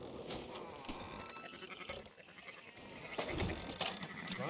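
Sheep bleating in the video game Red Dead Redemption 2 over a busy background of ambient noise, with a few wavering calls rising and falling.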